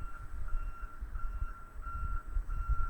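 A truck's reversing alarm repeats its steady beep roughly every third of a second, clear and mid-distance over a low rumbling engine and outdoor background.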